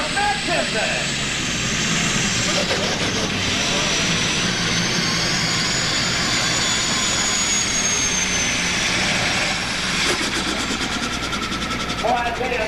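A D21 super stock pulling tractor roars at full power on a 1994 Imlay City, Michigan pull, a dense, continuous engine and turbo howl that holds steady throughout, with a faint announcer voice underneath.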